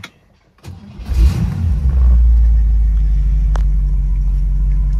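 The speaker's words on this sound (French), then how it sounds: "Je vais mettre le contact." A 1960 Cadillac Series 62 convertible cranks and fires up, its engine catching after a brief start and settling into a loud, steady low rumble that continues to the end.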